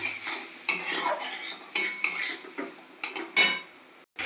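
Masala being stir-fried in a pan: repeated metallic scrapes and clinks of a spatula against the pan in uneven strokes over a light sizzle, ending with a brief silence and one more scrape.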